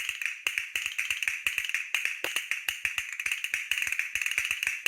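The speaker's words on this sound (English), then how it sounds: "Castanets." Castanets clatter in quick, crisp bursts of sharp wooden clicks, repeated in a steady rhythmic pattern close to the listener, with no voices.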